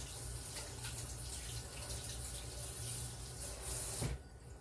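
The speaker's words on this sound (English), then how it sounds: "while that is cooking, let me wash this off my hands here." Tap water runs steadily as oily hands are rinsed under it at a kitchen sink, a faint, continuous splashing rush that stops abruptly near the end.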